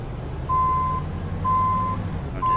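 A truck's reversing alarm in American Truck Simulator, backing up at Denver International Airport, sounds three steady electronic beeps over a low engine rumble.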